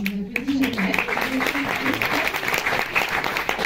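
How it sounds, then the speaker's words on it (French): A cinema audience at Le Champo applauds the film distributors with dense, steady clapping while a voice keeps talking over it. "Je voudrais que vous nous applaudissiez, parce qu'on ne vous applaudit jamais."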